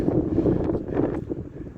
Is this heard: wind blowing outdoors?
yes